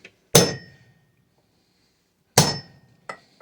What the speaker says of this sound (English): a nice little center punch on each of these holes